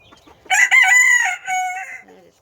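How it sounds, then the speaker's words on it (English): A silkie splash rooster crows loudly and close by, one drawn-out, wavering call lasting under two seconds, with a clucking chicken barely audible beforehand. "that is Cottontail, he's another silky rooster, he's a silky splash."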